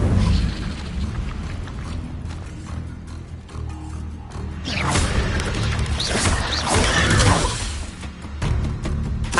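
Spell casting in the video game Hogwarts Legacy: rumbling magical bursts, fiery whooshes and crashing impacts over a continuous layered game soundscape, dense and loud throughout.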